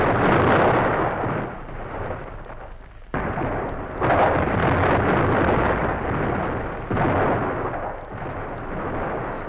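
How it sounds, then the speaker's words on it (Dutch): Warship cannons firing in a radio-drama battle over Natal: several loud, rumbling blasts, with a sharp boom followed closely by another, then a later one, all blending into continuous heavy roar. "Hulle draai nou hulle kanonne op ons."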